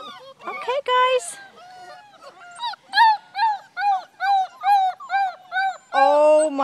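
European Basset hound puppy howling: after a few high yips comes a run of about eight short, wavering howls in quick succession, close and fairly loud, ending in a longer, fuller howl.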